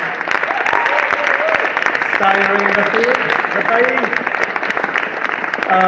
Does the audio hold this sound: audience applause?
yes